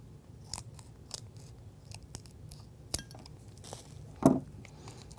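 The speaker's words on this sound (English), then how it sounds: "Take a pair of scissors." A few sparse, crisp snips of scissors cutting through thin plastic while fitting a ballistic shield cover, close up, with a louder clipped cut near the end and no talking.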